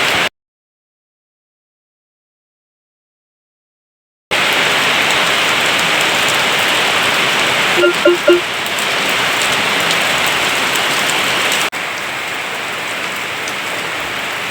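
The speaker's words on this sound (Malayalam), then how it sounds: "പുറത്ത് നല്ല മഴയാണ്" Heavy rain falls outside in a steady broadband roar, starting abruptly after a stretch of silence and continuing evenly, with a few faint thuds partway through and no voices.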